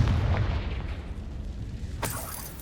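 A Confringo blast from Hogwarts Legacy booms up close and rumbles as it fades, then a second, sharper burst hits near the end. Both are loud and heavy, with no talking.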